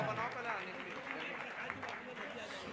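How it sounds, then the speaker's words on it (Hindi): An audience claps in honour at a Jain Panchkalyanak festival, a steady spread of applause running beneath a voice speaking over a loudspeaker. "जोरदार ताली बजाकर सम्मान देंगे"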